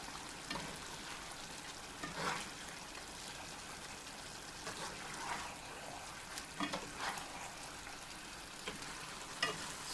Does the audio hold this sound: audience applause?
no